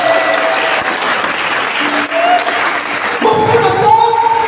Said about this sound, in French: Donne des acclamations.